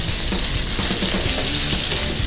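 Pork belly browns in hot oil in a pan, giving a steady, close sizzle with a few soft crackles and pops throughout, with no talking.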